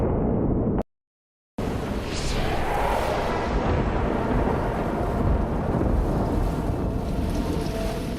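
Heavy deluge rain pouring down with deep rumbling thunder beneath it, a dense, loud, steady roar that starts, breaks off briefly to silence, then returns and continues unbroken.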